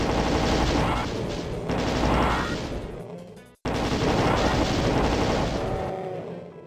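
Weapon fire and explosions from a rocket launcher in The Ultimate Doom, level E4M2 Perfect Hatred, form a dense, loud barrage that continues throughout, broken only by a brief drop-out midway.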